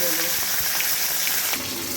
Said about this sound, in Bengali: তেল গরম করে এর মধ্যে আমি মাছগুলোকে একে একে ভেজে নেবো